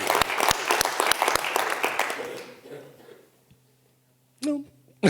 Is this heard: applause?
yes